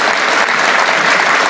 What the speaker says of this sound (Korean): 박수 쳐주려고 그러는 거예요?